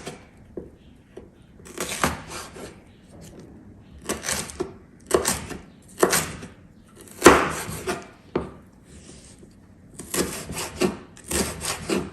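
Knife chopping chili pepper into very thin strips on a cutting board, heard as bursts of quick, close wooden taps and scraping strokes with short pauses between them.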